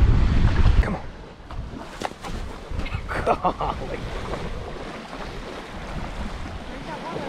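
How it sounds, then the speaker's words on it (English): Strong wind roars across a boat at sea, buffeting the microphone in a steady broadband rush with a heavy gust at the start, while a voice briefly exclaims over it. "If you can hear me over all of this crazy wind"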